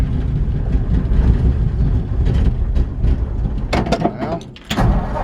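A 1952 Ford F1 truck engine idles with the choke pulled, a steady low rumble running throughout with a couple of brief higher bursts near the end.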